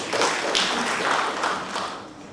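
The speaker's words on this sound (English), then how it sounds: "Kindly clap for them in absentia." Conference audience clapping in a hall, a dense and steady patter of many hands that holds fairly loud for the whole stretch, with no talk over it.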